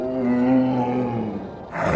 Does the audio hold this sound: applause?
no